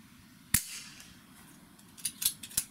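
An Umarex Notos air rifle fired on a 60-yard range, one sharp close snap followed by a quick cluster of lighter clicks and taps.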